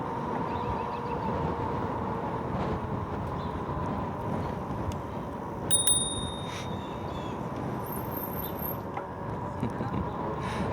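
The handlebar bell on a RadRover electric bike gives a couple of quick, clear dings during an outdoor ride, heard over steady wind rumble on the microphone.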